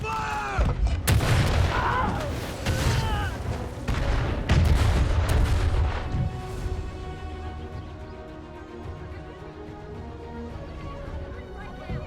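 Artillery opening fire in a war battle scene, with heavy booming blasts and crackling gunfire in dense bursts during the first half, then fading into a lingering rumble and ringing tones.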